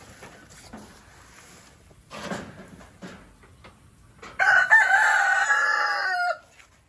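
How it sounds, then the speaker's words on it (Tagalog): A Texas gamefowl rooster crows once, loud and close, a drawn-out call near the end, preceded by faint clucks and quiet farmyard noise. "Ayun yung Texas na manok."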